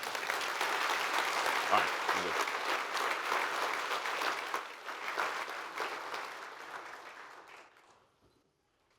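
Warm applause from a conference audience at an exit planning summit rises, holds steady for several seconds, then fades out. Someone speaks briefly over the clapping.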